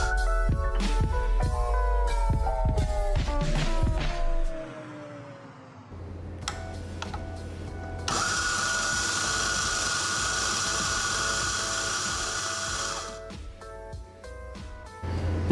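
Eureka Helios 80 coffee grinder grinding about 20 grams of beans; after a few clicks and knocks a steady, loud whirring grind sets in, holds for several seconds, then stops and is followed by light tapping.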